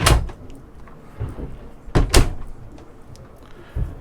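A wooden wardrobe door thuds open in a superyacht cabin, then a couple of knocks and a firm close, nearby and fairly loud in a quiet room.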